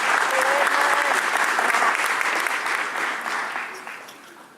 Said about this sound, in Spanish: Un aplauso a María, no se duerman, hermanos